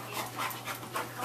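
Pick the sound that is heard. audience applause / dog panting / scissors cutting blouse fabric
dog panting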